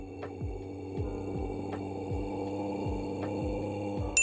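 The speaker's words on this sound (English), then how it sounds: "When you spawn a gateway while using Pinhead, he will start to hum." Pinhead, the killer in Dead by Daylight, hums after spawning a gateway: a low, steady, droning hum with a regular throbbing pulse roughly every half second, continuous and alone for the whole stretch.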